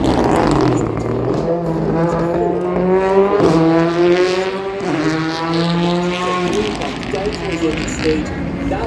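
A rally car at a senior stage rally races flat out toward the finish, engine screaming at high revs with rising pitch through gear changes, close and loud, while a commentator talks over it.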